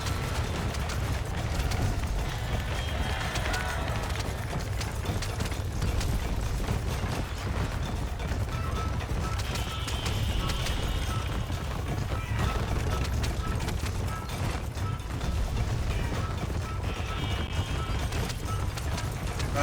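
Horse galloping in Red Dead Redemption during a race mission, a continuous rumbling run of hoofbeats with mechanical rattling and occasional bursts, steady and moderately loud throughout.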